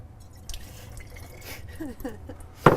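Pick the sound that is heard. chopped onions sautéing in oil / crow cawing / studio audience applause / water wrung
water wrung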